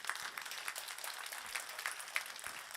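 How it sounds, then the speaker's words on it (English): Audience applause at an energy conference session on Baltic Sea region pathways, a steady, fairly faint wash of clapping heard throughout. "I would like to give a very big applause to you"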